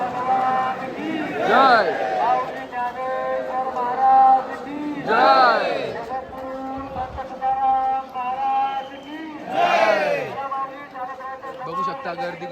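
A dense crowd of pilgrims near the Pandharpur temple during the Wari, busy murmur under bursts of chanting voices and nearby talk, with no pause in the bustle.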